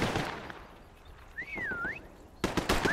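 Bursts of gunfire from the video game Black Ops 6 crackle in a rapid, dense volley at the start, then a quieter stretch with a rising tonal whine, before another sharp burst of shots near the end.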